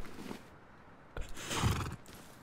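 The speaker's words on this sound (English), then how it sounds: "My horse is traumatized." A horse in the Rust video game lets out a faint whinny, with a soft rush of game ambience and a brief thud before the neigh swells and fades.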